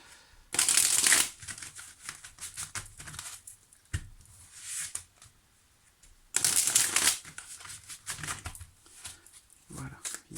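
Tarot cards being shuffled during a reading. Two loud, crisp riffling bursts come near the start and again midway, with softer card handling and quiet talk in between.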